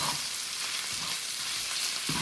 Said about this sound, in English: And you can hear it frying.